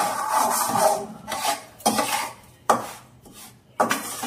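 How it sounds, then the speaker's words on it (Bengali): Semolina for suji halwa is stirred and scraped around a pan in repeated rasping strokes with clear pauses between passes, close and fairly loud with no talking. "আরেকটু নাড়াচাড়া করবো যাতে সুজি কালারটা আরেকটু চেঞ্জ হয়ে যায়"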